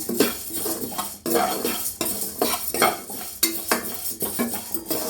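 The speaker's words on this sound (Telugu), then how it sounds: "కొద్దిగా ఎరడాలుగా వచ్చిన దాకా వేయించుకుంటే ఇప్పుడు ధనియాలు వేసుకున్నామండి" Coriander seeds roast and get stirred in a pan for karivepaku podi, a curry leaf powder, with a utensil scraping and clinking against the metal in repeated strokes over a light sizzle, close and fairly loud.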